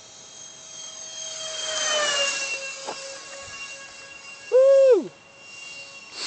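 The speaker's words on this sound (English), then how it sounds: "Fast little airplane, I tell you." A Banana Hobby A-10 foam RC jet with 64mm ducted fans on a 3S 3600mAh battery flies past, its high whine swelling and falling as it passes, before a person gives a loud brief exclamation.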